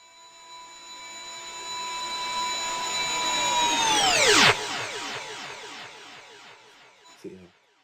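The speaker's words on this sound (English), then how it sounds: "I used the riser effect" A synthetic riser effect from GarageBand loops: a bright, noisy tone swells steadily louder for several seconds, then sweeps sharply downward into a fading tail, with a brief low thump near the end.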